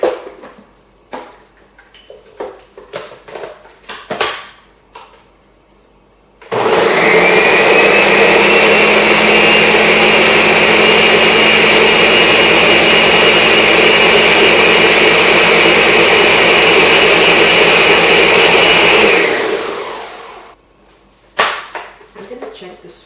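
A Cuisinart ice cream maker runs with a loud, steady mechanical whir for about thirteen seconds, then winds down. Brief clatter and a few spoken words come before and after.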